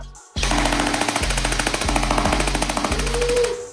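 A Sijun MP5K blowback airsoft gun fires full auto in a rapid, loud mechanical burst of chattering shots with blowback clatter, lasting about three seconds after a brief quiet start, with no talking.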